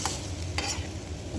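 Chicken and vegetables stirred in a thin frying pan with no water added, a few soft scrapes and brief rustles over a quiet steady background hiss.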